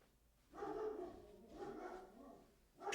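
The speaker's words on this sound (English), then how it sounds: "that is Abigail barking at the ugly dog walking down the street" A dog barks at another dog passing on the street, with several bursts of barking at a moderate distance in the background.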